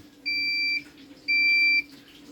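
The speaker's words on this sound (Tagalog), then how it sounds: "pag finish na beep beep beep beep narinig na natin ang valve nagsara" A washing machine with a replacement control board signals the end of its cycle with two steady, loud electronic beeps, each about half a second long, separated by a short pause over a low hum.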